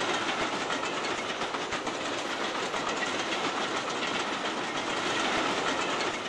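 A freight train rolling along the rails near Givors, France, with steady broadband rumble and a continuous clickety-clack of wagons passing close by, loud and sustained throughout with no voices.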